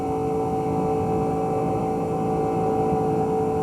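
Onboard a Pontiac stock car owned by A.J. Foyt at about 200 mph in the 2000 Pepsi 400, the engine drones as a steady, loud, unbroken tone with constant rushing noise.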